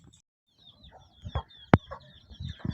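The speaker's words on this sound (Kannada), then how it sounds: "ಕೋಳಿ ಇಷ್ಟು ಕಬ್ಬಿನೊಳಗೆ ಮೇಯ್ದ." A chicken foraging in a sugarcane field gives soft, scattered clucks close by, with one sharp louder cluck partway through amid quiet rustling.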